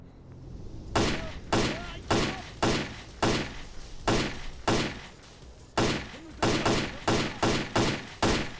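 Automatic rifle fire in Stalker: Clear Sky cracks out in a steady run of single shots, about a dozen sharp reports spaced roughly half a second apart with a brief pause midway.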